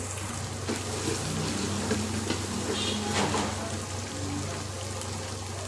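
Chopped tomatoes go into a pan of sizzling desi chicken masala for korma, a loud continuous frying hiss with stirring scrapes and bursts of crackle throughout, no voices.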